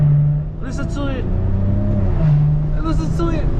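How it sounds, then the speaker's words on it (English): A Maserati Ghibli S exhaust drones and burbles steadily while driving, loud and close, with people talking and laughing over it. "the exhaust sound like something trapped inside it"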